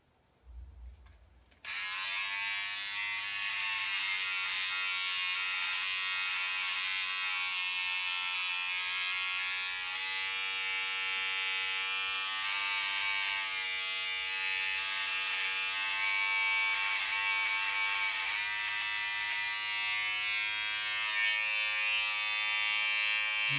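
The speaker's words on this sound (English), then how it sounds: "what I got here is my beard trimmer" An electric beard trimmer switches on after a brief rustle and hums with a steady, high-pitched buzz, close and continuous, running alone without any talking.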